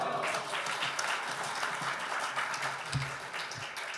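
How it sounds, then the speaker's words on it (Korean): Applause from a church congregation welcoming a pastor to preach at a men's mission prayer meeting, a steady crowd clap filling the room with a low thump near the end. "큰 박수로 모시겠습니다"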